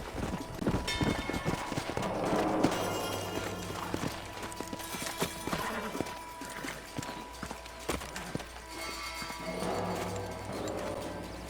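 Horse hooves clip-clopping in the Western video game Red Dead Redemption, a steady run of close, sharp hoof strikes over ambient game sound with music and a faint voice in the background.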